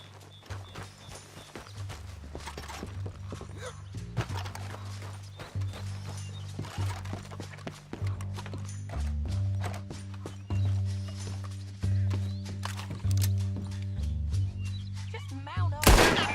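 Horse hooves clip-clop at a steady riding pace in Red Dead Redemption 2, with occasional gunshots and snorts over a low droning musical score, moderately loud and continuous throughout.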